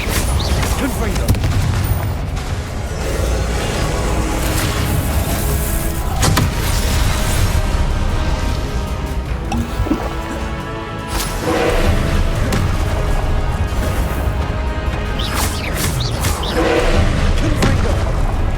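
Confringo blasting spells cast repeatedly in a Hogwarts Legacy fight, giving a dense run of loud booms and explosive thuds over continuous game noise and music, with a voice calling out spells between the blasts.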